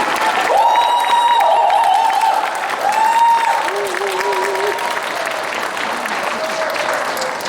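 Lecture audience clapping in a dense, steady wave that fills the hall for the whole stretch, with a few voices calling out over it and slowly easing in strength.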